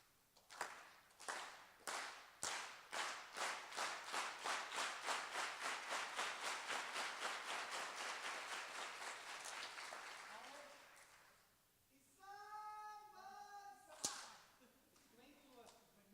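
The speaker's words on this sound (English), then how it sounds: "So somebody start us off with the unity clap." An audience performs a unity clap, slow single claps that steadily speed up into a fast rhythmic patter, then fade out. Cheers and voices follow near the end.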